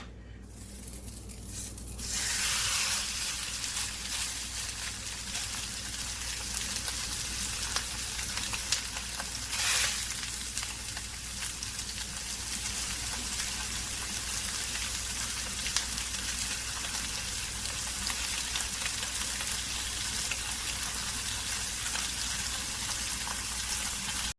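Two pounds of pork breakfast sausage sizzles steadily in a hot pan as it is broken up and browned, a dense, continuous frying hiss that stays close and even throughout, with no talking.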